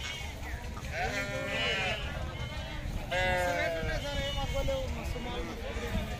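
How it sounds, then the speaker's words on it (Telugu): Sheep and lambs bleat repeatedly at a busy sheep market in Pebbair, several animals calling over one another close by, with people talking throughout under a steady crowd murmur. "మరి గొర్రెలు అయితే ఈ విధంగా ఉన్నాయి"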